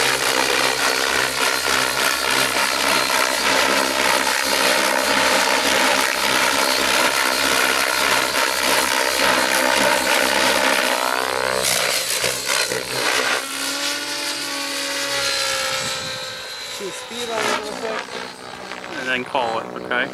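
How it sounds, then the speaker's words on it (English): A radio-controlled Raptor E700 helicopter flying hard 3D maneuvers gives a loud, continuous, high-pitched whine with shifting pitch as the rotor and motor load change, steady throughout. "We haven't tested those at full power though, at a full 3D flight, so might want to land a little early, Aaron."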